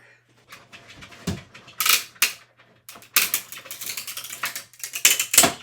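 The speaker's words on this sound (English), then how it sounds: "I'm going to go ahead and cut out my window sheet" Someone cuts a window sheet for a shaker card, and close, sharp snips and crisp crackling cuts come in irregular bursts with short quiet gaps between them.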